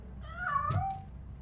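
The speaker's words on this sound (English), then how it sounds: "That cat must be hiding inside. Let me lure it out." A cat in the Robocop: Rogue City video game gives a single short meow, fairly clear over a low background hum.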